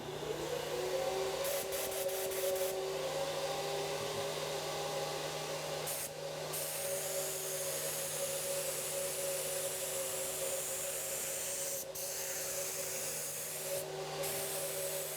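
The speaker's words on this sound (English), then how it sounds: "I just want to let the finish come off the gun." A spray gun lays finish onto cherry wood furniture with a continuous airy hiss and a steady mechanical hum beneath, broken by a few brief pauses and bursts.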